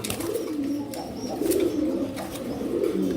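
Fancy pigeons at a pigeon farm coo steadily in a low, rolling murmur, close and continuous, with several birds overlapping.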